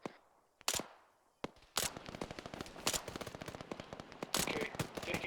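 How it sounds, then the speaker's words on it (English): Bursts of automatic gunfire in the military shooter game Task Force Athena, rapid sharp cracks in rolling volleys with a few isolated loud shots, close and punchy throughout. "taking fire from the compound"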